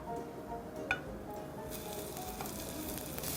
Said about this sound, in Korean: 지글지글 맛있는 소리와 함께 향이 정말 좋은데요.